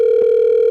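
A phone call tone plays loud and steady, one continuous unbroken note held for the whole moment.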